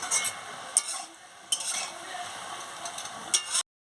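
A spinach and taro curry is stirred in a pan, with a soft steady sizzle and scraping under several sharp clinks of a spoon against the metal rim, close and fairly quiet.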